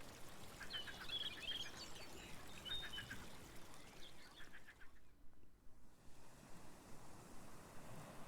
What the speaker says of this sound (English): The relentless waves keep sharpening the teeth-like rocks.